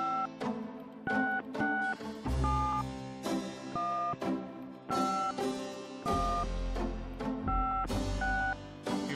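Touch-tone telephone keypad beeps from the Gabriel Knight: Sins of the Father 20th Anniversary game, a quick series of dialed tones in irregular bursts over background game music.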